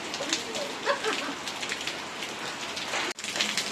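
Steady rain pours down outdoors, a dense close hiss of drops striking surfaces, with a brief dropout near the end; no voices.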